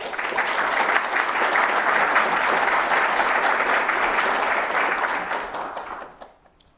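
An audience applauds a professor stepping up to the podium at an academic talk on Fukushima and civil society, a steady dense clapping that holds for about six seconds and then fades out quickly.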